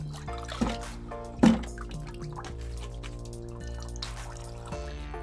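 Water drips and splashes while a sock-covered texture roller is wetted for stamping a wood-grain pattern into a concrete bench, with a few distinct drips over a quiet background.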